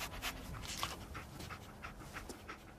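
Dogmeat, the German shepherd companion in Fallout 4, pants in quick, faint, breathy rhythm against a soft game ambience, with no voices over it.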